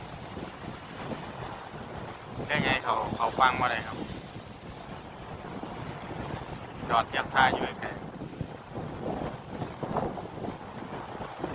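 Strong wind buffets the microphone beside a boat at low tide, with waves washing around in steady rough noise while someone talks over it in bursts.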